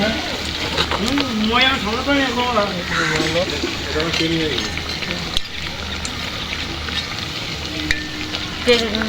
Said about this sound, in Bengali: পেঁয়াজিগুলো ভাজা ভাজা হয়ে গেছে ওরা দেখুন লাল লাল করে সুন্দর লাগছে দেখতে ওরা মচমচে